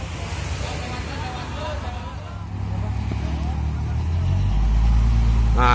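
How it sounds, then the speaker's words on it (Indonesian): A tow truck's engine idles and then builds as it pulls out of a parking lot before a recovery job at a steep downhill crash site, a low steady rumble growing louder toward the end, with voices in the background. "Nah, ini mulai persiapan ya, truk dereknya udah mau keluar dari parkiran."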